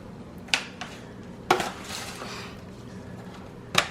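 Country style ribs go into a metal pan before smoking, with three sharp clanks and scrapes of meat and utensils against the pan over a quiet room hum, no talking.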